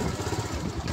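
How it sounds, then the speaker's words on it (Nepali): Tractor engine chugging in a rural field where manure is being hauled, a steady rough mid-pitched drone with a pulsing beat, fairly close and continuous throughout. "ट्र्याक्टर अघि आइपुगेको रहेछ"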